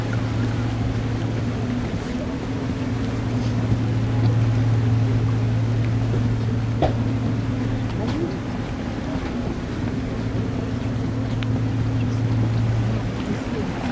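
A small black rib boat slowly approaches over Arctic water off Svalbard near a glacier, seen from the Hurtigruten ship MS Bard. Its motor gives a steady low drone under continuous wind and wave noise.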